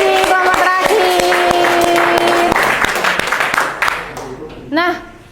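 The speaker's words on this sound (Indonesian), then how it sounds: "Tepuk tangan." A classroom audience applauds after a group presentation, a burst of dense clapping that rises over spoken voices and then thins out, ending with a few scattered voices.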